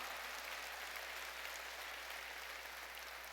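A church congregation claps together during a Sunday worship service, a steady, dense wash of applause that holds evenly from start to finish with no voices over it.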